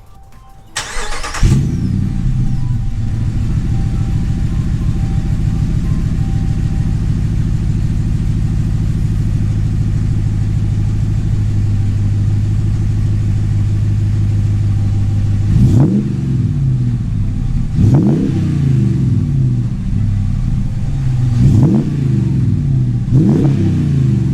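A Ram 1500 5.7 Hemi pickup with a Borla S-Type exhaust, after 1,000 miles, cranks and fires up, settles into a loud, steady rumbling idle, then is revved sharply three times with each rev dropping back to idle.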